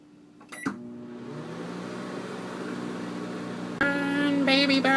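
A microwave oven runs with a steady electrical hum after a click at the start, then shifts near the end to a louder, brighter whirring tone.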